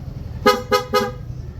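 PIAA dual horn fitted to a Yamaha Fazzio scooter gives three short, loud honks in quick succession, close by, with no talking over them.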